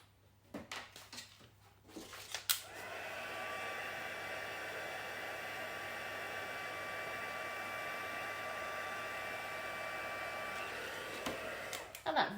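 A heat tool blows a steady, loud whoosh for about ten seconds, warming and melting white embossing powder on a stamped sea turtle card, with a few clicks and handling taps before it starts and after it stops.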